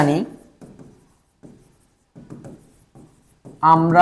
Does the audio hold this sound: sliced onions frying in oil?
no